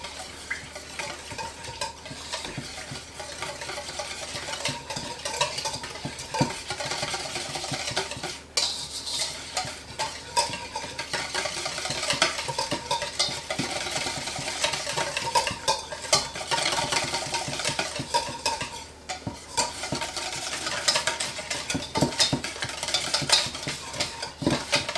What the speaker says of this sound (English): So I'm going to start with 2/3 cup of Greek yogurt. And 1/2 a cup of olive oil. And I'm going to mix those together.